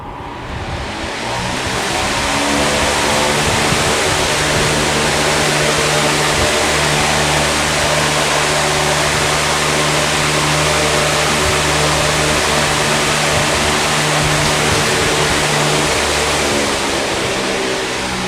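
An electric fan with a 1.5 amp PSC motor starts up on high, its motor hum and rushing air building over a couple of seconds into a loud, steady whoosh with a low tonal drone.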